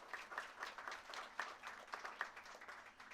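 A crowd applauds at a West Park building grand opening, saluting construction representatives from Gilbane; a steady wash of hand claps with a few sharper individual claps standing out, moderately close.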